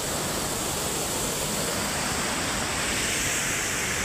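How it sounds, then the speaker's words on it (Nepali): River water rushes steadily above Dhiplung waterfall in Khotang, a dense continuous roar that holds even throughout with no voices over it. "खोला छ, अब यो मुनि झरना छ"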